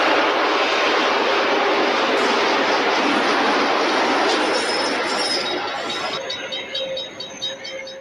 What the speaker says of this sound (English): commuter train has managed to brake hard enough to come to a complete stop right in the nick of time